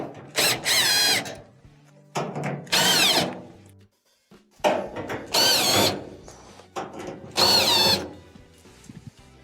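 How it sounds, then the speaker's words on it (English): A power drill backs Phillips screws out of a clothes dryer's bulkhead in five close, loud whirring bursts, each a second or so long, separated by short quiet pauses and small clicks. "In order to remove the bulkhead, there are a couple of Phillips screws that have to be taken out."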